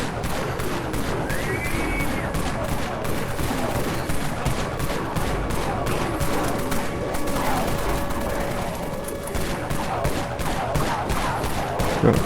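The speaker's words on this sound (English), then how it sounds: "Blast some shotgun shells off" Shotgun blasts ring out in the Dead Frontier 3D video game, a rapid fusillade of repeated shots rolling over about twelve seconds at moderate loudness, with faint background game tones.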